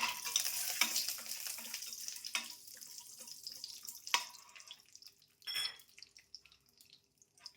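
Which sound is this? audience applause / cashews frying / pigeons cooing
cashews frying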